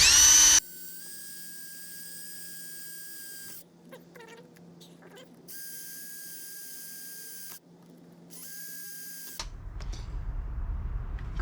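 A power drill bores a hole for a carburetor install on a Honda Express NC50 scooter, whining in close, high-pitched bursts separated by short pauses, ending in a rougher noisy stretch.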